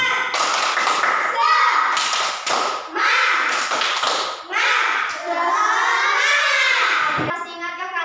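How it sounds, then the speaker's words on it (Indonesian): A classroom of children performs a rhythmic spirit clap, sharp patterned claps and thumps in quick bursts with brief pauses, followed by the children calling out together in chorus. "Tepuk semangat!"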